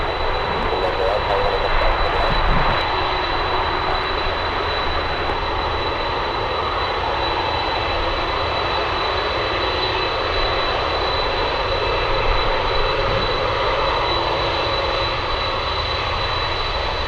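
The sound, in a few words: Alaska Airlines jet with crab livery arriving, landing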